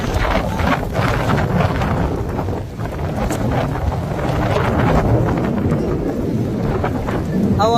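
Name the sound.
strong wind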